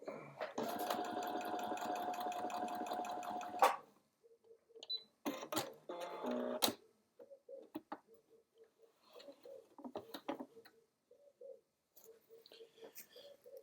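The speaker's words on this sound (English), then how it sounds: "Let's sew the other side." A sewing machine stitching in a fast, steady mechanical rattle for a few seconds, then a shorter second run after a pause, with quiet clicks and handling noises in between.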